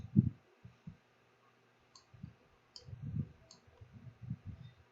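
A computer mouse clicks softly in Cricut Design Space: three faint, sharp clicks spaced about a second apart, set against quiet room noise and low thumps.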